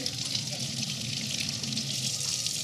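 Water running steadily from a sink tap onto a steel tumbler being prepped for glitter, a continuous hiss close by and moderately quiet.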